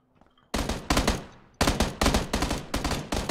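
Gunfire in an online shooter video game rings out in sharp, loud bursts. A quiet lead-in gives way to a long first volley, a short pause, then several more rapid bursts, each cracking hard and decaying quickly.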